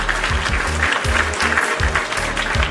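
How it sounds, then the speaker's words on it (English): Applause on a wrestling podcast, a bright clapping texture with a rhythmic low thumping pattern running beneath it, steady and fairly loud throughout. "Round of applause for our guests."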